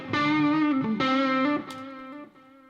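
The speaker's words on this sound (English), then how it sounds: "We're going to choose the scoring stage, which makes a great guitar room set at these settings." Electric guitar played through a scoring stage reverb with the low end rolled off and modulation on the tail: a few sustained, distorted chords and notes, loud and alone, then a shimmering tail fading away.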